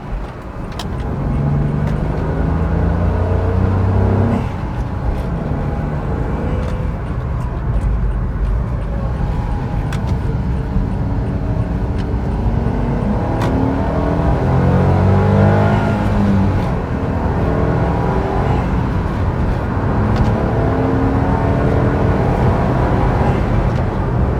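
Rear-wheel-drive Honda S660 small sports car driving and accelerating through gears, engine rising and falling repeatedly with steady road noise, heard from inside the car.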